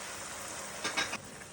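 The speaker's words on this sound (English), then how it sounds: "we're going to add 1/4 cup of white wine to deglaze our pan" White wine poured into a hot pan of sweating onions and celery, giving a soft, steady sizzle with a couple of brief brighter hisses near the end.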